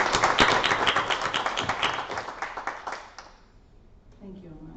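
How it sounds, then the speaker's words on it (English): A board of education meeting room breaks into a round of applause, a modest group clapping briskly for about three seconds before it fades into quiet room tone. "we give him a big round of applause and a thank you."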